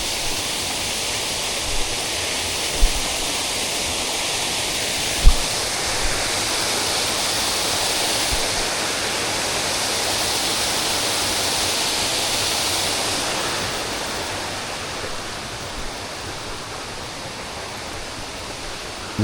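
A mountain waterfall beside a forest trail near Alanya gives a steady, loud broadband rush of falling water that stays even throughout, with a few faint knocks and no talking.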